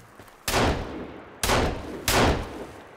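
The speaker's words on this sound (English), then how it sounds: "I don't know which way you're shooting." Three sharp, loud gunshots from a companion firing in Sons of the Forest, spaced about a second apart, each with a booming, decaying tail and no talk over them.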